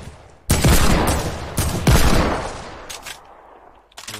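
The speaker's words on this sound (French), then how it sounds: "Oh mais il y a deux tirs là" Loud gunshots in a video game ring out in a few heavy bursts, each a sharp crack trailing into a long echoing decay, followed by fainter scattered shots further off.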